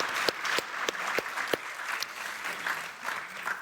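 Audience applause after a lecture conversation, a dense patter of many hands clapping with a few sharp louder claps standing out, fairly steady and moderately loud throughout.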